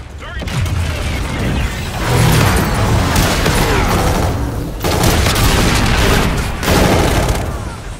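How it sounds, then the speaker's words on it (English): Heavy gunfire in Call of Duty, loud and close, with sustained volleys and booms packed together and brief dips between bursts. "Shots out, shots out."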